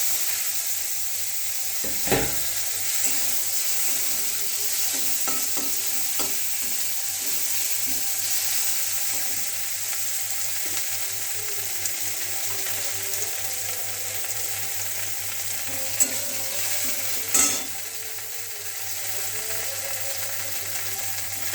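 Ingredients frying in a pan while being stirred: a constant close sizzle with occasional scrapes and a couple of sharp utensil knocks.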